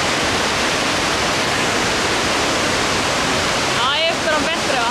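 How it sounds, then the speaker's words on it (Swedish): Dynjandi waterfall in Iceland roars as a dense, steady rush of falling water, loud and close and unbroken, with a faint squeaky sound near the end. "Här har vi Le Vattenfall."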